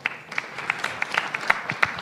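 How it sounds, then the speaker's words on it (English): A small audience gives a sparse round of applause for a speaker at a film policy gathering, scattered individual claps, irregular and moderately close. "A clap for him, please."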